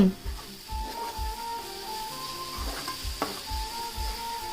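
Masala curry being stirred in a frying pan with oil separating, a steady sizzle underneath soft, rhythmic scraping and stirring strokes with occasional light clinks of a utensil against the pan.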